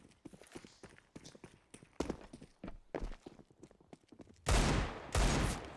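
SMG gunfire in a CS:GO esports match on the Inferno map, heard as scattered rapid clicks and shots that end in two loud, dense bursts of automatic fire near the end, with no voices.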